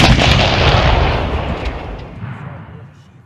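An M777 155mm howitzer fires a single heavy, close blast that rolls out and fades into a long rumbling decay.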